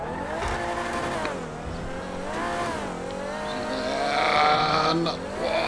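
A Dewbauchee Vagner sports car in the video game GTA 5 climbing a spiral stunt ramp from low speed, its engine revving and rising in pitch with tire squeal, close and continuous with a voice talking over it.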